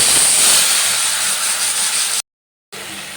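Tamarind dropped into hot oil with dried chilli and panch phoron sizzles with a loud, close hiss that eases slightly, cuts out abruptly for a moment, then resumes.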